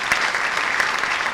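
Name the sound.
audience applauding the author at a book presentation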